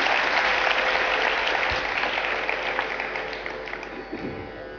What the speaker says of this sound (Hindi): जोरदार तालियों से हम अपने मंचासीन कलाकारों का स्वागत